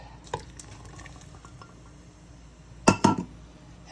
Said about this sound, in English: And stir, baby, stir.